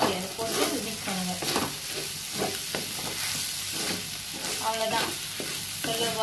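Chili powder is stirred into a frying pan while making spicy fried eggs, giving a continuous close sizzle broken by repeated rhythmic scrapes of the spoon against the pan.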